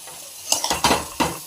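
Red amaranth greens go into a hot oiled pan with potato or pumpkin and are stirred: a few sharp scrapes and clatters of a spatula against the pan over a soft sizzle, close and brief.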